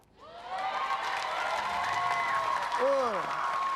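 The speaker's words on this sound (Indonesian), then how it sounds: "Tepuk tangan yuk." An audience at an Indonesian comedy show claps and cheers, with the crowd noise swelling and holding steady while a voice calls out over it and a sliding whoop rises near the end.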